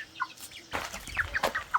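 Several short, soft clucks from fifteen backyard chickens, spaced irregularly with a bit of low rustling behind them, fairly close by.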